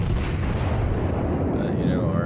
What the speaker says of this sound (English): now I'm just gonna try to shoot the guy on the cap